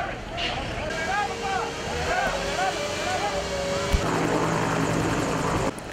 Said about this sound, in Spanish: Desde el aire, helicópteros realizaban descargas de agua para apoyar a los diferentes equipos de rescate